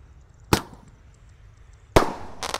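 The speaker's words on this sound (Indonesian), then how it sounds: "menyalakan banyak sekali mercon petasan di dalam toples" Firecrackers set off inside a jar, sharp loud cracks spaced apart, with a third cluster of pops starting at the end over a faint background.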